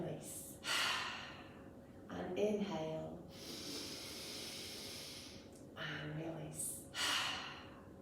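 Deep yoga breathing: several slow, audible inhales and long hissing exhales, close and soft, while a voice speaks between breaths.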